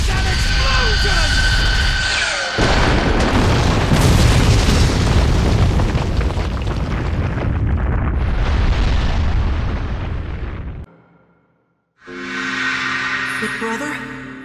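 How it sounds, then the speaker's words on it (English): A big anime-style explosion blast roars loud and sustained for about ten seconds, dense rumbling debris, then cuts to a short silence before another burst of sound returns. "Because my art is an explosion!"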